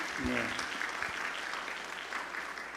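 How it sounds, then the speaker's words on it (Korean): Church congregation at an Easter service applauding the choir conductor after a cantata, a soft, even wash of clapping with a few low thumps near the start. "수고하신 우리 지휘자님에게 한번 박수 한번 해주시죠"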